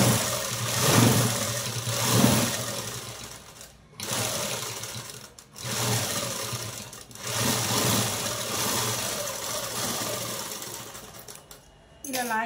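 Sewing machine stitching a lining, running in several long bursts with brief pauses between them, its motor whir loud and close.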